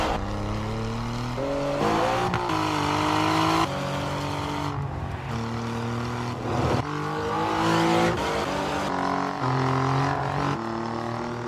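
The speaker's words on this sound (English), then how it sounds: "Let's put this car on the track." A 505-hp Alfa Romeo Giulia Quadrifoglio revs hard and shifts repeatedly on a race track near Sonoma Raceway, rising and falling in pitch as it accelerates through gears, loud and close throughout.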